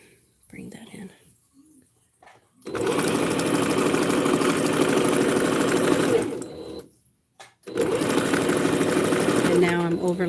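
A sewing machine stitches binding onto a quilt in two sustained bursts of fast mechanical whirring, separated by a short pause, with quiet talk before and between them.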